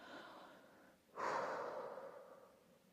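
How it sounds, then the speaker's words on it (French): A person slowly blows out one deep, calming breath: a soft airy exhale that swells suddenly, then fades gradually over a couple of seconds, with quieter breathing just before it and no talking. "maintenant, on va souffler un coup."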